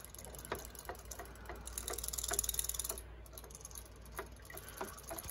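Robotic toy fish swimming in a small water-filled bowl, giving off soft regular mechanical ticking with faint watery sounds, quiet and close.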